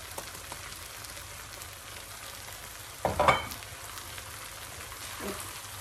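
Cauliflower rice with peas stirred gently in a frying pan, a soft steady sizzle with one clear burst of scraping and clatter partway through, quiet overall with no speech.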